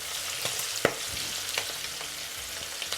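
Calamari pieces crackle and bubble in hot oil while deep-frying to a crisp, a continuous fizzing sizzle with scattered sharp pops and one louder clatter.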